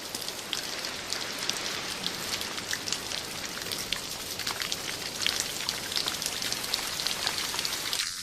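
Afternoon rain falls steadily on a mountaintop forest of evergreen trees hung with moss and ferns, a dense, even patter of drops on leaves and surfaces, close and continuous with no voices.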